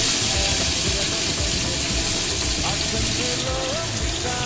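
Mango slices sizzle in a hot pan, a loud dense steady hiss that fills the whole moment without pause, close up with no talking.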